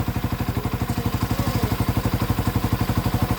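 A 200cc converted motorcycle engine runs at a steady idle close by, with an even, rapid thumping beat and a light mechanical clatter, and no one speaking.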